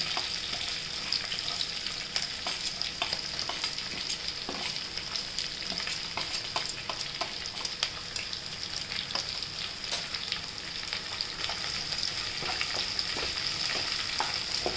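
Chopped onion sautéing in oil for methi dal, a dense, even sizzle and crackle filling the whole stretch, with light stirring and no voices.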